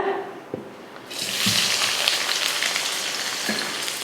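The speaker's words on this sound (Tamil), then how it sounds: "குழம்பு தாளிக்கிறதுக்கு எண்ணெய் ஊற்றி எண்ணெய் காஞ்சிருச்சு. இதில் வெங்காயம் சேர்த்துக்கலாம்." Chopped onions dropped into hot oil for an egg curry, a quiet start then a sudden loud, continuous crackling sizzle that holds steady close by, with faint stirring.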